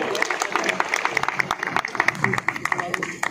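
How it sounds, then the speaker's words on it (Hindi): Welcoming applause from the audience at a farmers' fair seminar and exhibition, a few seconds of scattered, uneven clapping with voices mixed in. "एक बार जोरदार तालियों से"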